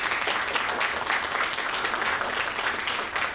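An audience at a youth oratorical contest gives a round of applause, an even wash of clapping that continues steadily for several seconds at a moderate distance.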